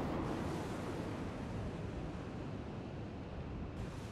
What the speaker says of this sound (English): Here you hear the little engines going off, which is also neat.